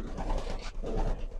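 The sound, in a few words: breeder pigeons on rooftop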